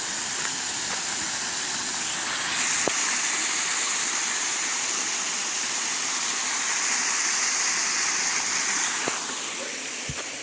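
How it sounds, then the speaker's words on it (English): Waterfall beside the Mill Creek Rail Trail, a steady broad hiss of falling water rushing from a long drop, constant and fairly loud, with faint brief clicks over it. "Beautiful waterfall here."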